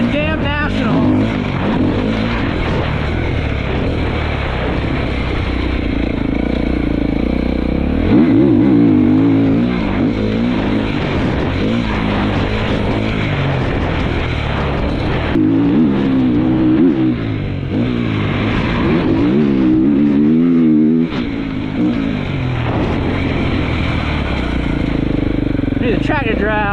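A motocross dirt bike runs hard on a sandy practice track, its engine revving and droning loudly throughout with repeated throttle surges and gear changes, near the listener.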